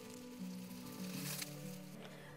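Cottage cheese pancakes sizzle steadily in a frying pan, a soft continuous crackle with a low hum beneath, fairly quiet and close throughout.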